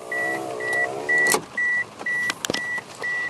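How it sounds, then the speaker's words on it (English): Power window lowering in a 1995 Ford Escort LX Wagon. A repeating, evenly spaced warning chime beeps throughout, and a couple of sharp clicks and thumps come near the middle. "Put down the window just a tad."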